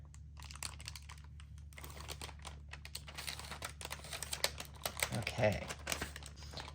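Waxed glassine paper peeled slowly off a craft mat, a close crinkling, crackling tear that swells near the end, with a brief spoken word early on and a low steady hum underneath.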